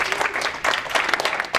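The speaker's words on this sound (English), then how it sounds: "Round of applause." A small group applauds at a Pictionary-style whiteboard drawing game, a brief burst of dense, fairly loud clapping close by.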